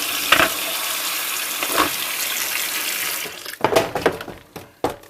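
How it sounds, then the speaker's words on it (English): Hot tap water runs steadily over plastic Nintendo NES console parts in a basket for about three seconds, then stops, leaving a few close drips, clatters and splashes. "We'll just rinse them off with hot water."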